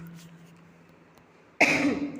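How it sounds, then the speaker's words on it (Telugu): A single sharp cough from a person with a cold bursts out near the end after a stretch of quiet room hiss. "కొంచెం జలుబు దగ్గుగా ఉందండి అడ్జస్ట్ చేసుకోండి సారీ ఫర్ ద డిస్టర్బెన్స్"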